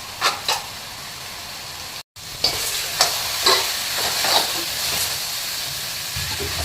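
Tomatoes sautéing in a pan for a brinjal thokku make a steady close hiss and sizzle, broken by occasional soft clicks and scrapes of stirring.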